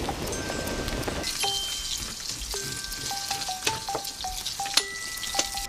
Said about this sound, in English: And we're going to quickly sear this. Add a little more butter. And I add the morel.